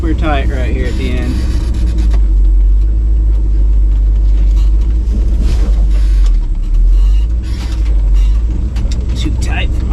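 An old truck grinds along a very tight off-road trail. A low engine rumble holds under a voice speaking, with scraping and creaking bursts from branches and the body as it squeezes through.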